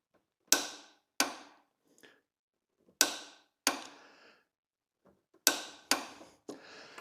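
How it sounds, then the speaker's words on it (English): A torque wrench tightens the main axle bolt of an Indian Chief Darkhorse motorcycle to 65 foot-pounds, giving three pairs of sharp, close clicks separated by quiet pauses, with no talking. "we're going to torque this to 65 foot-pounds as our final torque"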